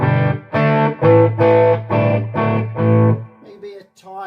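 An electric guitar through a Hayden Mighty Mofo 5-watt tube amp plays a run of distorted chords in roughly half-second bursts, with short gaps between them and quieter plucked notes at the end.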